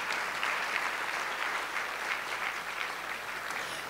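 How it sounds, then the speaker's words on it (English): A conference audience at a soil regeneration event applauds its sponsors, giving a soft, continuous patter of many hands heard from a distance, steady throughout. "big round of applause for our sponsors"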